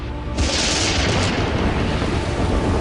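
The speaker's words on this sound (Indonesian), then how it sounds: "Apakah kita akan mendengar lebih banyak guntur?" Cartoon thunder in a children's show: a deep, loud rumbling boom that breaks in sharply after a brief moment and rolls on continuously, heavy and close, with no talking over it.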